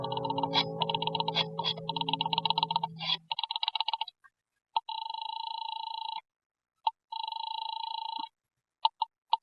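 Old-time radio drama telephone bell rings in a staccato rattle over a low hum, then settles into repeated rings separated by short silences, clear and close with no voices.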